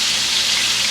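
Venison backstrap, six pieces, frying in a hot pan with a steady, dense sizzle that holds evenly for about a second, close and fairly loud with no voices.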